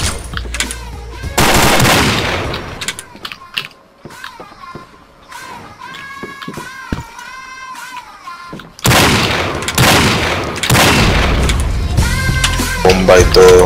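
Bursts of rapid gunfire in the game Combat Arms during a one-on-one match, loud and dense at the start and again near the end, with music and Spanish voices in the quieter middle.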